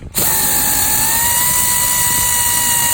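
An air impact wrench runs continuously on a nut during a lowering springs install on a 2019 Dodge Charger Scat Pack, a loud, steady whining buzz starting abruptly and holding for the full stretch.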